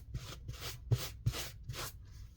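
Sandpaper rubbed back and forth along a fabric napkin's edges to fray it, about five rhythmic scratchy strokes, close and moderately quiet with no talking.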